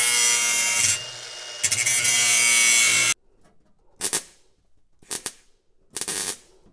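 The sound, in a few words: trimming steel car floor pan panel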